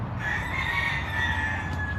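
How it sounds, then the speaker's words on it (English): A rooster crows in a drawn-out call amid background clucking of chickens, moderately close with no talk. "Man, y'all got a lot of chickens."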